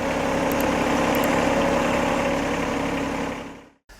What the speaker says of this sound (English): We're going to use this boom mower to get some of the smaller limbs